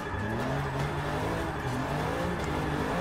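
A 1997 BMW E36 M3 drift build in Forza 6 howls at steady high revs through a corner, a loud continuous engine drone with slight pitch wavering and no talk over it.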